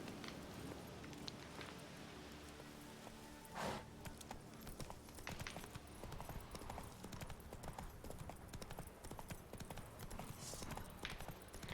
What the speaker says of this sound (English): Let's summon the horse.